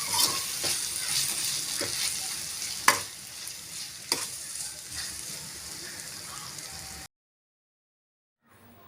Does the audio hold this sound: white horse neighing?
no